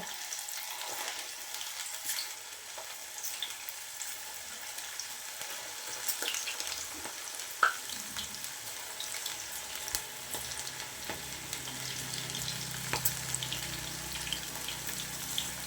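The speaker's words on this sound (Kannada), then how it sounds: "ಇವಾಗ ಎಣ್ಣೆ ಕಾದಿದೆ ಹಿಟ್ಟನ್ನೆಲ್ಲ ನಾವು ಈ ಥರ ಒಂದೊಂದೇ ಆಗಿಬಿಡಬೇಕು" Pieces of okra coated in kurkure batter fry in hot oil, a dense, crackling sizzle that swells a little as more go in, with scattered utensil taps and pops.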